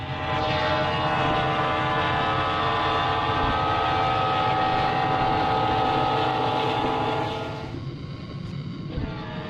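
A train rumbles past in the horror video game Lost in Vivo, a loud, steady roar with humming tones that holds for several seconds and then eases off slightly near the end.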